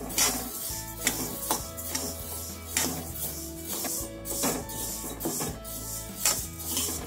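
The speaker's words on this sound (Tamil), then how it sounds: "இப்போ இதை வந்து ஃப்ரை பண்ணி எடுத்துடலாம்." Moong dal is dry-fried lightly in a pan, heard as repeated scraping and stirring strokes of a spoon against the metal, close and steady, with no talk.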